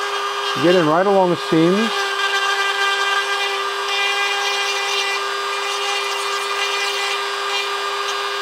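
A stone cone-shaped grinder works a cast resin skull, whining steadily and close throughout after someone speaks briefly at the start.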